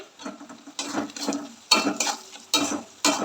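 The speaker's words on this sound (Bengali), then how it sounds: "দেখো ভালো করে নেড়ে দিলাম" Ground spices, coriander and cumin powder among them, being stirred in a frying pan while a fish and eggplant curry cooks, heard as bursts of scraping and clattering against the pan with short pauses in between and no voices.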